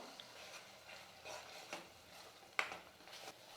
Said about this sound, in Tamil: இப்போ நம்ம அரைச்ச பேஸ்ட்டு சேர்த்து இது ஒரு ரெண்டு நிமிஷத்துக்கு வந்து நல்லா வதக்கிக்கலாம்